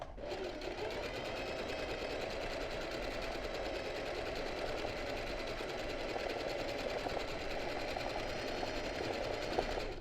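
A sewing machine running steadily for freehand embroidery, its needle stitching in a fast, even, unbroken whir at moderate loudness, close by and alone without talk.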